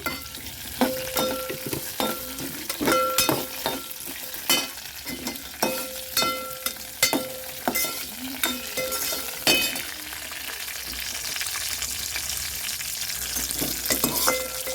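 Urad dal and cumin seeds frying in hot oil, a steady crackling sizzle with a run of sharp metallic spoon clinks against the pan, then the clinks stop while the frying continues.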